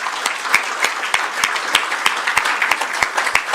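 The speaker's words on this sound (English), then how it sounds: "Let's give a warm round of applause, please, for everyone in the room." Conference audience applauding at an energy, mining and business forum in Timor-Leste, a steady wash of many hands with sharp individual claps standing out, fairly close and continuous without talk.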